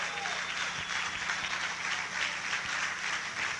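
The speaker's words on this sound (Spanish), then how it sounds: "Dale un aplauso a Jesucristo." A church congregation breaks into applause for Jesus Christ during a service, a steady wash of many hands clapping at moderate distance that carries evenly for a few seconds.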